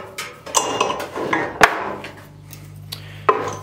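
Tin snips cutting a small metal shim off stock in a welding shop, giving a few sharp metallic clicks and snaps spaced apart, with faint workshop hum underneath.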